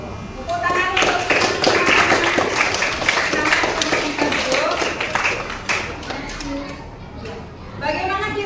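A class of children claps for a group's school presentation, the sharp, uneven hand claps spread across several seconds amid lively children's voices and chatter, tapering off near the end.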